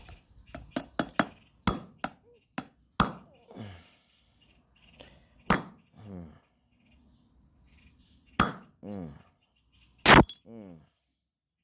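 Sharp metallic hammer strikes driving a front wheel bearing into an Isuzu, in irregular bursts, some quick and clustered, others spaced apart, with someone talking briefly between the blows.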